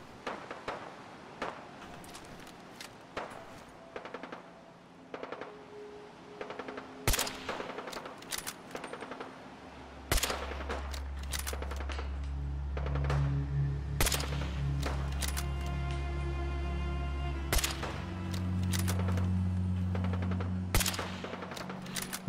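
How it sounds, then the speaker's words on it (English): Gunfire in Fallout 4: Far Harbor pops off in scattered single shots and short bursts at mid distance, irregular and sharp, over a low droning hum that rises partway through. "Are they shooting at me or are they just randomly shooting?"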